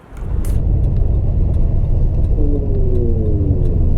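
A 600+ hp turbocharged Camaro engine idles and rumbles loud and close, a steady low drone that holds from just after the start to the end, with a brief higher burst near the beginning.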